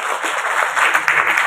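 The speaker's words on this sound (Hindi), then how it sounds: "इसलिए एक बार ताली बजा करके आपका स्वागत करें।" An audience at a ceremony for Babasaheb Ambedkar's 132nd birth anniversary claps together to welcome a speaker, giving a short burst of close, fairly loud applause.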